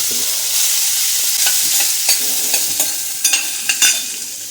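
Sprouted beans sautéing in a little hot oil in a pan, a steady close sizzle broken by several sharp scraping clinks of a spatula stirring, no voices.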